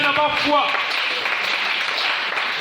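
A church congregation breaks into applause to acclaim the Lord, a dense crowd clapping under and after a voice that speaks briefly at the start.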